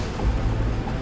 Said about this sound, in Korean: 오늘처럼 바람과 파도가 심한 날에는